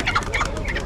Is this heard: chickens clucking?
yes